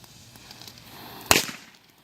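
A single sharp firecracker blast cracks out of a quiet backyard scene during a 4th of July fireworks session, a loud broadband burst that decays over a fraction of a second.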